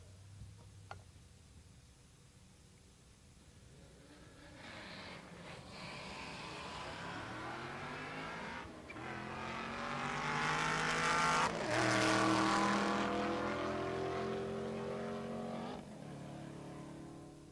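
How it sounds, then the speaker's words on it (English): A Corvette and a Camaro launch side by side at a drag strip at Pueblo Motorsports Park, engines rising from idle into a loud sustained roar with tire squeal, then fading as the cars pull away; no speech. "Jason Vincenthaler in the left lane, the Corvette"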